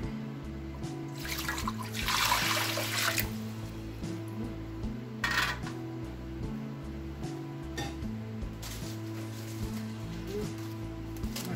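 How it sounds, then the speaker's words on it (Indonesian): Water pours and splashes into a metal steamer pot in a few bursts, with quiet clinks and handling between pours. "Sekarang kita siapkan kukusannya. Kasih air."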